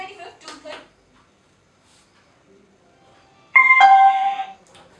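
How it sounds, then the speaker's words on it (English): An MS-132BT Bluetooth speaker gives a single bright, tonal bleep about a second long when its mode changes. It sounds close and loud, after a few short bursts of sound and a quiet pause. "You just need to stop after one bleep."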